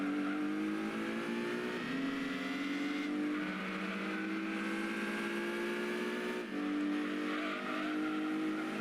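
A small yellow ZZ-S Coupe from Gran Turismo 2 drones at high revs during an endurance race, its engine tone steady and buzzy with a few brief dips and climbs as gears shift, with no voices.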